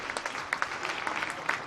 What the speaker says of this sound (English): and we do applaud her.